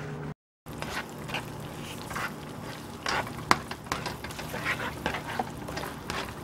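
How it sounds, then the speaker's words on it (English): Butter, celery and onion stirred in a pan, a soft steady scraping with faint sizzle and occasional clinks of the utensil throughout. "Amy's mixing around the butter and the celery and the onion"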